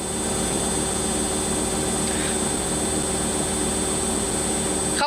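A household washing machine runs through a live stream, a steady, loud mechanical drone with a constant hum that holds unchanged and unbroken throughout.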